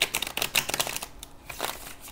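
A deck of oracle cards is shuffled by hand, with rapid papery riffles and flutters in quick bursts, close and fairly loud, with no talking.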